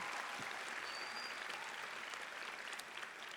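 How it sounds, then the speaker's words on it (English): Sustained applause from a graduation ceremony crowd honoring parents, dense, even clapping that stays steady throughout, heard from a distance in a large hall. "So students, can we please give them all a round of applause?"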